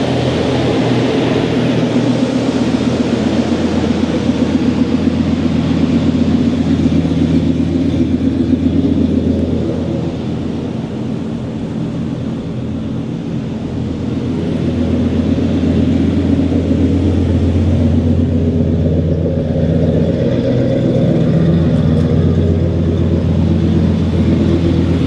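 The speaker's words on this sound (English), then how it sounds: "She's running nice and strong. Gotta love an Olds engine." A 1971 Oldsmobile Cutlass Supreme convertible's Olds V8 idling steadily and strongly up close, a deep continuous rumble with a slight dip midway, running alone without talk.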